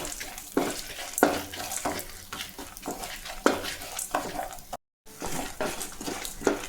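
Dried red chilies and lentils roasting over a low flame in a pan, heard as a soft dry rustle with repeated scraping stirs at a steady rhythm, close and moderately quiet with no talking.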